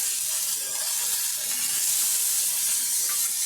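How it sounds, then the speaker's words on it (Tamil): Mustard seeds and urad dal sizzle steadily in hot oil for a South Indian tempering, a continuous close, bright crackling hiss with no voices. "இப்போ கடுகு உளுந்த பருப்பு தாளித்தம் எடுத்தோம்"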